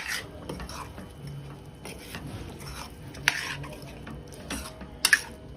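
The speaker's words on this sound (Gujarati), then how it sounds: "હવે આપણે ચણા એડ કરી દઈશું. એકવાર આપણે મિક્સ કરી દઈશું." Chickpeas are stirred into roasted masala in a pan, with soft scraping and a low sizzle plus a few sharp clinks of a spoon against the metal, close and fairly quiet.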